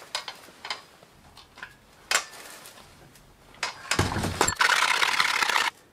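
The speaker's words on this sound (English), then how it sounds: "Ah, stupid bicycle pump." A hand bicycle pump inflates the tyre of an old bicycle, with most of the air leaking past the valve. Faint clicks and knocks lead into a few louder, breathy rushes of air near the end.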